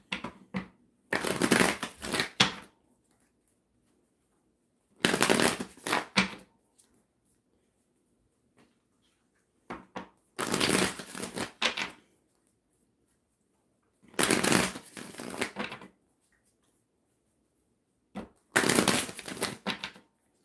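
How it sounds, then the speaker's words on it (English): Five bursts of card shuffling from a Wild Unknown Animal Spirit oracle deck, each riffle lasting a second or two with quiet gaps between, close and crisp, no speech. "Let's go ahead and pull some animal cards."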